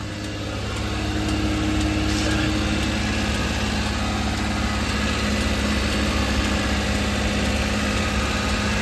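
A Suzuki Carry kei truck engine runs at a steady idle right after an oil change, heard up close as a continuous, loud, even rumble with a light mechanical whine and no talking.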